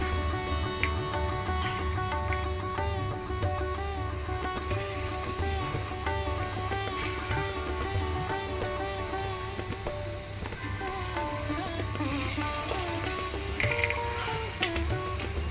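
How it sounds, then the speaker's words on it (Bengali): Small soybean pakoras fry in hot oil with a steady, dense sizzle and bubbling that runs the whole time without pause, close and fairly even in level, with no voices. "সেহেতু কয়েকটা নিয়ে আমি পাকোড়াটা বানিয়ে নিব।"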